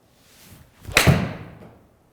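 A Miura PI-401 golf iron strikes a ball once, giving a single sharp crisp impact with a short fading tail and no talking.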